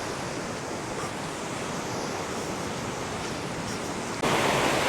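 Wind and sea waves wash over a Latvian coastal beach in a steady, dense roar, growing louder and harsher near the end as a gust buffets the microphone.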